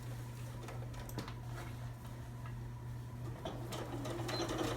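A sewing machine stitches all around a custom water bottle cover, a quiet, continuous motor hum with faint rapid ticking of the needle running steadily throughout.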